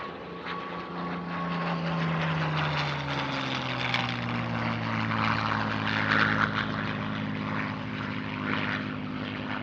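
A Spanish-built fighter powered by a Rolls-Royce Merlin piston engine flies past at an airshow near Paris. The propeller drone is loud and close, with clear engine tones that slide down in pitch as it passes.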